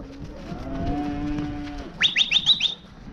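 Cattle moo on a farm, a long low bellow followed by a quick run of short, higher calls, with no voices and a light background hiss.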